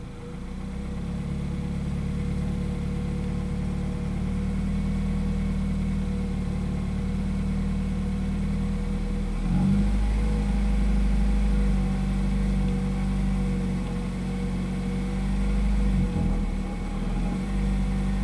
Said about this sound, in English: You only rev it up a little bit.